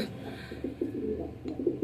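A pigeon at a breeding farm coos in a short series of soft, low, throaty pulses, close by, with faint background noise.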